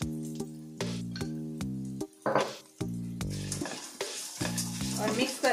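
Lemon rice being stirred and fried in a pan, with a steady sizzle and scraping stir strokes under a tonal musical background.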